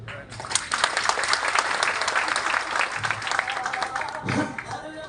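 An indoor audience applauds together in a sustained, dense patter of many hands for several seconds, with voices mixed faintly underneath.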